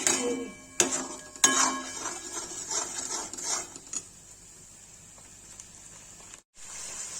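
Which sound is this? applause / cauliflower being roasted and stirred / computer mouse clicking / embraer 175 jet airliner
cauliflower being roasted and stirred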